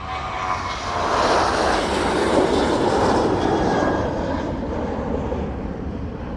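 A One Air Boeing 747 departs with a sustained, loud roar of its jet engines, a broad steady rumble that swells and holds across the whole stretch without any voices over it.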